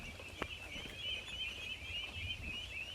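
Hundreds of ducks on a farm by the Lalin River keep up a dense, continuous flock chatter with quacking calls overlapping throughout, close and steady, no talking.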